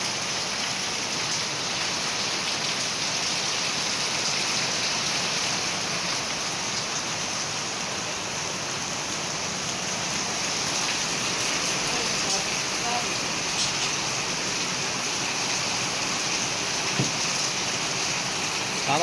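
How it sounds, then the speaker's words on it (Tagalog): Steady, dense rain falls close by, a continuous broadband hiss of drops on surfaces that stays even and unbroken, with no voices. "maulan dito sa amin mga kalangga"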